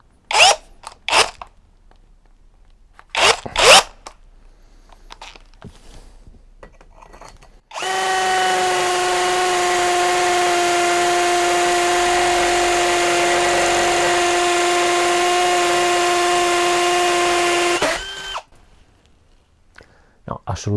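Mensela ED-LX2 brushless hammer drill boring into concrete: a loud, steady whining drone with a strong motor tone lasting about ten seconds, preceded by a few sharp knocks and handling sounds and ending abruptly into quiet.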